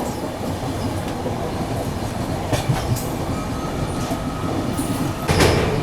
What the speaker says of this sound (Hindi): अभी हम लोग यमुना रिवर क्रॉस कर रहे हैं।